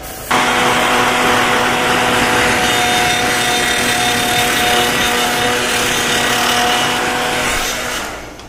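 An old, well-worn Conair hair dryer heat-sets freshly sprayed fluorescent blue paint, giving a loud, continuous blowing whine with steady tonal hums. It switches on abruptly and runs alone for several seconds before winding down near the end.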